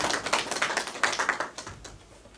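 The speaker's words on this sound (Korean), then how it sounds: "우리 심태영 강사님을 큰 박수로 모시겠습니다" A small audience claps to welcome a cultural tourism guide lecturer at a talk about Jinan. A dense, close patter of hand claps thins out toward the end, with no voices.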